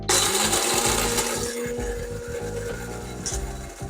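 A drip coffee maker runs with a steady mechanical whir and buzz that keeps going for the full few seconds. It is fairly loud and close, and there is no talking over it.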